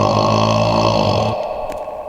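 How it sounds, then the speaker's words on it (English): A man lets out a long, deep, resonant burp up close, loud and drawn out for over a second before trailing off into quiet. "Sorry for all the burps."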